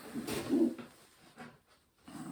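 Breeding pigeons give a low, soft coo close by, followed by faint rustling and another quiet murmur.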